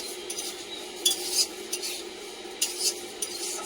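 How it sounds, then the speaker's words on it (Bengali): Moong dal being fried and stirred in a pot on a home stove, with scraping metal stirring strokes and light clinks over a faint sizzle, close and fairly quiet with no talk. "এধারে মুগ ডালটা একটু ভেজে নিচ্ছি"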